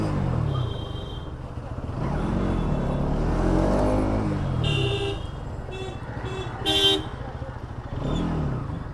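Dense road traffic around a moving Bajaj Pulsar NS200 motorcycle, with engines revving and rising, and several short car horn toots near the end, heard close up from the bike without speech.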